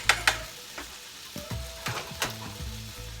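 Coconut oil sizzling softly in a pan over medium-low heat, with a few clicks and clatters of stirring or food being moved; no one speaks.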